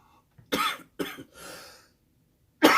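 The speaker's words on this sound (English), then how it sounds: "I'm having a coughing fit now, and it doesn't seem to want to go away" A person in a coughing fit gives several harsh, close coughs in quick succession, then a pause and one more loud cough.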